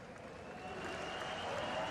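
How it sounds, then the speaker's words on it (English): Spectators cheering at Zandvoort during a motor race, a faint, distant wash of crowd noise and applause swelling gently and steadily throughout. "You can hear the crowd cheering him."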